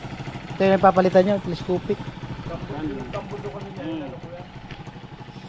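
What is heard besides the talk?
motorcycle engine running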